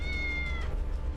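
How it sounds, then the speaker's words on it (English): A cat meows once in the video game Tales of the Neon Sea, a thin, high, drawn-out cry over a low background hum, fading after about half a second. "but I'm sure that's a cat meowing"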